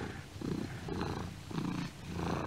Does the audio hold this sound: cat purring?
yes